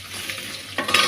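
Garlic frying in a pan for a sardine curry, a steady close sizzle with stirring that swells louder near the end, no talk.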